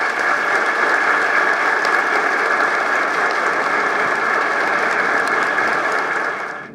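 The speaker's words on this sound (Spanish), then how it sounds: "el comandante Hugo Chávez, para quien pido aquí un fuerte aplauso." A conference audience applauds loudly and steadily for a leader, a dense wash of clapping that holds for nearly seven seconds before tapering off at the end.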